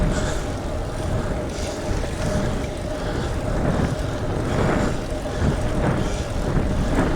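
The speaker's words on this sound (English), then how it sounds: "I'm riding into the wind" Steady broadband wind roar buffets the microphone while a road bike is ridden into a headwind, continuous and fairly loud for the whole stretch with gusty surges and no talking.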